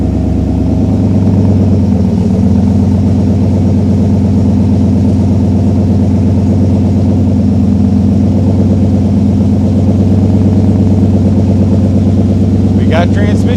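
A swapped-in Chevy 350 V8 idles in a 1951 Chevy 3100 truck, a loud, close, steady low rumble whose idle shifts slightly as the pump kicks in, with a voice talking over it.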